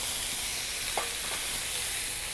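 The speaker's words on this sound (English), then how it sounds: "So now in come our red peppers, adding some color to the stir fry." Red peppers sizzling in a hot stir fry, a steady close hiss of frying with a couple of light stirring scrapes partway through, no voices.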